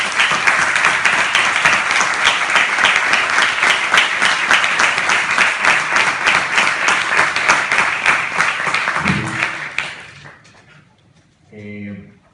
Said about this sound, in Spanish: yo pido ese aplauso fuerte para Jorge Benítez Lobante